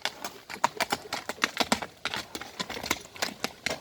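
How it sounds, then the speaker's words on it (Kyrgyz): Hooves of a purebred black bay Kyrgyz horse, a young (two-year-old) horse, clip-clopping in a quick irregular rhythm of sharp, close hoofbeats on hard ground, some in rapid clusters. "Таза кандуу кара байыр."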